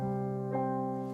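A sustained low piano tone rings steadily, with a second note struck about halfway through, the pair blending into a full, resonant octave.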